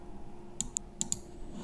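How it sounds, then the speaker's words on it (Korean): Quiet computer keyboard keys pressed as a Command+I shortcut: a few sharp, close clicks in two small pairs over a faint steady hum, no voices. "저는 Command I를 눌러서 실행시켜보면은"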